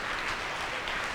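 A church congregation claps together in a dense, continuous burst of applause, loud and close, filling the short moment with no gaps and no clear voices.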